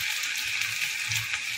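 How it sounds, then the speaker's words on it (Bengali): Spices and tomato fry for cauliflower dhoka dalna, a steady soft sizzle with faint stirring scrapes, close and low in level. "3 মিনিট সময় দিয়ে এটাকে ভালো করে আমি কষিয়ে নেব, ভেজে নেব।"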